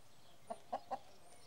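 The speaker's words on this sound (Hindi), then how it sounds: "एक बार रवि की प्रयोगशाला में एक मुर्गी चली जाती है" Three quick, soft clucks from a chicken in a quiet space, evenly spaced, with nothing else around them.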